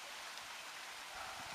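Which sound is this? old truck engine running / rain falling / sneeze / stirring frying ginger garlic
rain falling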